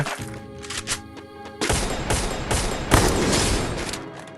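Rapid bursts of gunfire in the battle-royale game Free Fire, loud and close, with rattling shots that come in quick clusters and continue without a break, over a backdrop of in-game music and no voices.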